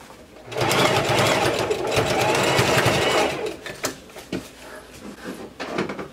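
A sewing machine runs in one steady burst of about three seconds, stitching a circle blouse as the fabric is gently stretched. Softer handling noises follow with no talk.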